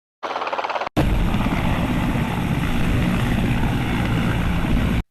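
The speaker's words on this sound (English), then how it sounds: "H for helicopter." A brief rapid chopping burst, then a loud, steady helicopter rotor drone with engine roar that continues evenly until it cuts off.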